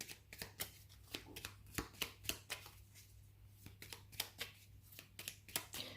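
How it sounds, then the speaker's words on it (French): Tarot cards shuffled and drawn from a deck, giving a steady run of crisp, close papery flicks and snaps in an irregular rhythm over a quiet room hum, with no talking. "je vais aller tirer une petite carte"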